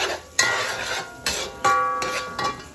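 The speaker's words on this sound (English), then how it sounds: "Then stir it." Gandules and ham being stirred in a pot, with a spoon scraping and knocking against the sides in several close, uneven strokes over a faint sizzle.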